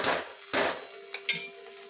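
Spoon stirring green chilli sauce, tomato sauce and other sauces together in a bowl, giving a few sharp clinks and scrapes against the dish at irregular intervals, close and alone with no voices.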